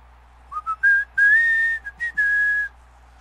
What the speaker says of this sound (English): Oh, I didn't mean to whistle.